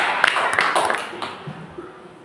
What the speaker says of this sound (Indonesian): kita berikan tepuk tangan kepada kelompok 3